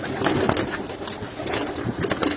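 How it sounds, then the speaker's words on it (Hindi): Pigeons coo steadily in a breeder's loft, soft repeated calls blending into a dense, noisy background of birds and rustling. "ज़्यादातर हरे कबूतर जो हैं वो यहाँ आपको नज़र आएंगे।"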